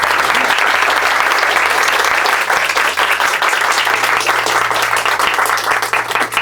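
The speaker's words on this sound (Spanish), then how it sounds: "un aplauso, por favor" Audience at a book launch clapping, dense sustained applause filling the room, loud and steady throughout.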